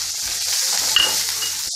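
Chopped onions and capsicum sizzle in a hot pan, a brief, steady crackling fry with a faint scrape of stirring partway through.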